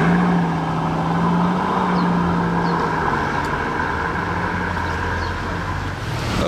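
A V12 engine on a Porsche at a car meet holds a loud, steady idle with a deep, even rumble that carries through the whole stretch, with no voices over it.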